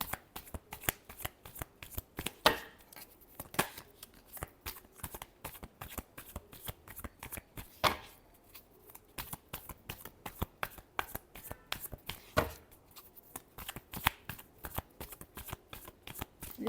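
Tarot cards are shuffled repeatedly, close up, in a long run of crisp riffling slaps with a few louder snaps and brief pauses between passes.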